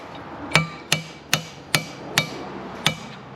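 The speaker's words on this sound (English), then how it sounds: "Just give that a wee tap in there." Six sharp hammer taps on a nut during a lawn mower repair, close and distinct, spaced unevenly with short ringing decays between them.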